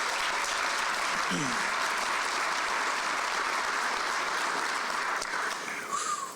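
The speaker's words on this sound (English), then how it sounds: "Please give them all a big round of applause." Sustained applause from an audience at a county executive installation ceremony, honoring newly elected officials, a dense, even roar of clapping throughout with faint voices underneath, tapering slightly at the end.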